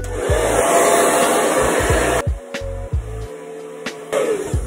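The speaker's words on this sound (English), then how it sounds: "So this is my hair dryer, it's a wall one." Wall-mounted hair dryer running on high heat without a nozzle, blowing a steady, loud airy whoosh that dips and cuts in and out as it is moved and switched.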